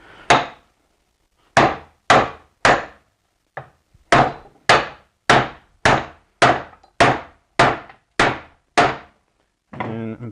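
About a dozen sharp metallic hammer strikes on a Toyota 4Runner U-joint, loud and close, landing in a steady rhythm with a few irregular gaps.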